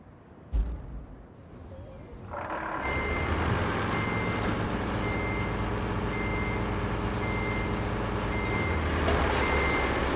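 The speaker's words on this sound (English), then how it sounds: "I grab my big dump truck." A big dump truck in the construction game Roadcraft starts up with a low diesel rumble, then its reversing alarm beeps steadily over the engine drone, with a short hiss near the end.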